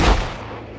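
A single gunshot from a film crime scene cracks loud and close, then decays into a brief booming echo, alone without speech.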